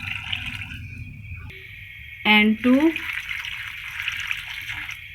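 Water pours from a glass into a pan of raw mango slices in a steady splashing stream, and someone speaks briefly in the middle of the pour.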